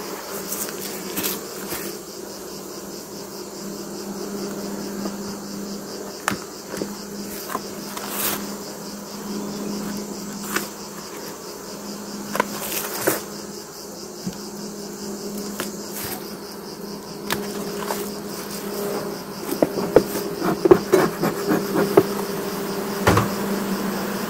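Honey bees hum steadily around an opened hive frame holding worker brood, nectar and capped honey, a close continuous buzz with occasional louder passes of single bees and light knocks of the frame.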